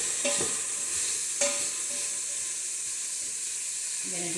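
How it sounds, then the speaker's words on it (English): Red lentil and spinach soup is stirred in a quick cooker pot, with a steady bubbling hiss and two brief scraping knocks of the spoon near the start. "Give this another stir."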